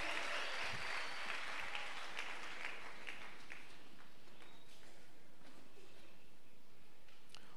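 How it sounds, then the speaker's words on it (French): A church congregation claps together after a Bible reading, a dense burst of applause that is loudest at the start and then thins out as the clapping fades. "Est-ce qu'on peut acclamer pour la parole de Dieu?"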